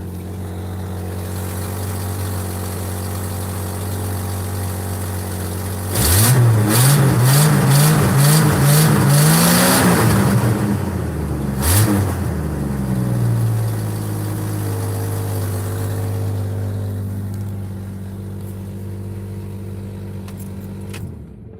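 A 1970s AMC Spirit hot rod engine cranks and catches at about six seconds, revs up loudly a few times, then settles into a steady idle.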